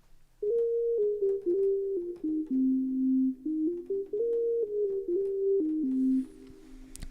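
Synthesizer patch with chorus in legato mode glides smoothly between notes in a connected melodic line, solo and moderately quiet.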